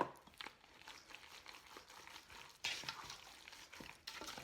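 Birdie bread batter for a Moluccan cockatoo is stirred in a bowl, soft wet scraping and swishing strokes that are faint and close, with a couple of louder scrapes partway through, and no talking.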